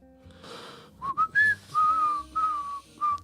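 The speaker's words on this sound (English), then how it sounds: "Why are you whistling that song" A person whistles a song alone in a pub podcast setting, a string of clear melodic phrases with short breaks between them, fairly close and moderately loud.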